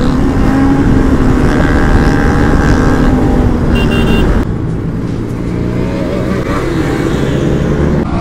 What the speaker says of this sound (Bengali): ব্যাক ফায়ার মারছে দেখো সুপার বাইকে